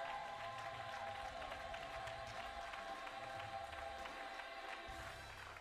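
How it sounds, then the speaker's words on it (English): A congregation applauds during a wedding service, a steady wash of many hands clapping together at moderate distance, continuous throughout with a faint hum beneath and a slight fade near the end. "Let's give the Lord a clap offering"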